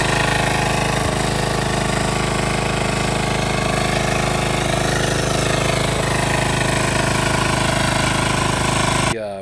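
A John Deere RX75 riding mower's engine runs steadily and loudly up close, a rough continuous drone with a pulsing low chug that carries on unbroken for about nine seconds before cutting off.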